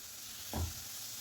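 Nendran banana pieces sauté in a pan for halwa, a quiet background sizzle with a single short stir or scrape standing out briefly.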